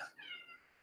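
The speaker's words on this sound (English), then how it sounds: "Sorry if you hear that cat in the background." A single short, high meow from a cat somewhere in the background, faint and quickly fading.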